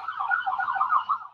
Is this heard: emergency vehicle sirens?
yes